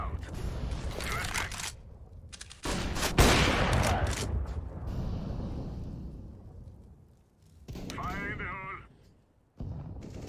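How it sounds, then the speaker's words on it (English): Dense bursts of gunfire and explosive blasts from a counter-strike style video game match, with a loud bang and a long rumbling tail, broken by short gaps and overlapped by voices talking. "Flashbang."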